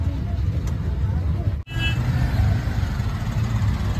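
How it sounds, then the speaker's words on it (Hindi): Steady road traffic noise in a jammed street in Vrindavan during Janmashtami crowds, a continuous low rumble of idling cars and other vehicles close by, with a brief dropout midway and faint voices mixed in. "ट्रैफिक में जमे हैं।"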